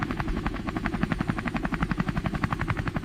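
An animated helicopter's rotor beats in a fast, steady rhythmic thumping, sustained throughout at moderate volume.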